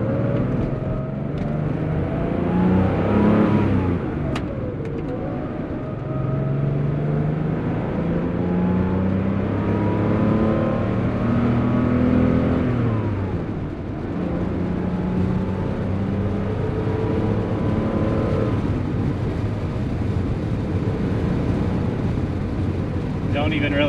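Porsche 911 G50 coupe cruising in fifth gear at about 70 mph on open roads, steady engine drone rising and falling with throttle, wind and road noise throughout.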